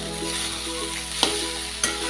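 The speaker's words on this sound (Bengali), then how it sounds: "এবার ডিম ঝুড়োগুলো দিয়ে দিয়েছি, দিয়ে আমি এবার নাড়ছি।" Leftover rice with vegetables, spices and scrambled egg being stirred in a pan: a steady low sizzle with a faint hum behind it, broken by two sharp spatula knocks against the pan.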